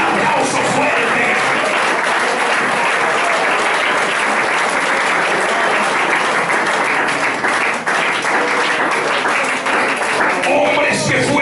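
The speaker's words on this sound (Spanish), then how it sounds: "Un aplauso fuerte." A church congregation delivers a long, loud round of applause during an evangelical service, with steady, full clapping that holds at a constant, close level throughout.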